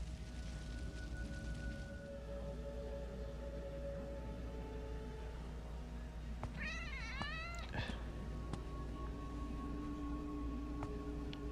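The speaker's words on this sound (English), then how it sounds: "that was an Egyptian cat" An Egyptian cat in the horror video game Endless Nightmare 3 gives a single wavering meow midway, set against a steady low ambient drone, with no talking.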